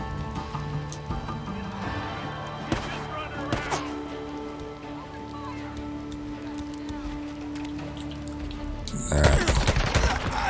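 Pistol shots in the Days Gone video game, a few sharp cracks spaced apart over game ambience and a steady hum, ending in a louder burst of noise near the end.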